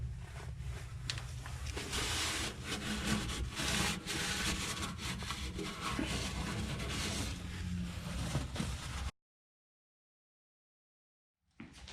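A rag rubs and scrubs grease out of the fire pot of a Traeger grill, a close, continuous brushy scraping with faint knocks that stops suddenly, leaving silence.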